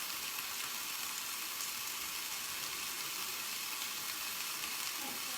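Corn and shrimp soup is stirred in a pot, giving a steady, faint hiss and bubbling simmer with no distinct clinks, running unbroken and alone throughout.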